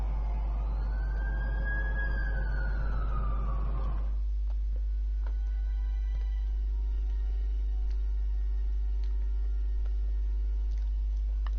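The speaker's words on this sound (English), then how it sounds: "That's the ambulance I called." An ambulance siren wails for about four seconds, one sweeping tone rising and falling close by before cutting off abruptly, leaving a low steady hum and faint background clatter.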